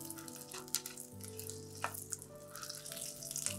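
Whole spices sizzle and crackle in a frying pan with oil, close and fairly quiet. Steady frying hiss carries light pops, and occasional stirring clinks sound against the pan.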